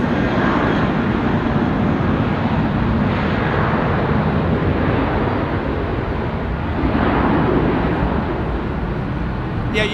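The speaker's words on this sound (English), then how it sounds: "Virgin Atlantic, Airbus 350-1000 going to Delhi." Virgin Atlantic Airbus A350-1000 jet at London Heathrow, a continuous loud rushing engine roar that swells and fades in broad waves with wind buffeting, no voices.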